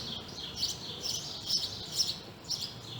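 Sparrows chirp in quick bright bursts at a steady pulse, fairly close, with no talking.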